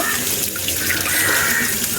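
Freshly harvested turmeric being washed under running water, a loud, continuous splash of a tap pouring over the roots, close up and without speech.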